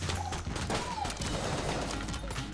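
A gun spraying a barrage of bullets in Enter the Gungeon, a dense continuous rattle of rapid shots at moderate volume lasting the whole moment, with busy game effects around it and no talking.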